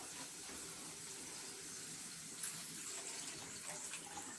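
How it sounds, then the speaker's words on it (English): Water being poured into a pot of vegetable sweet corn soup gives a soft, continuous splashing trickle, faint and steady, with no voices. "now we'll add some water"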